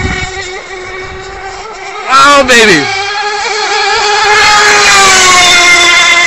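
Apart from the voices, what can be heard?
Twin Rigger RoadRunner boat with twin Picco 80 EXR engines running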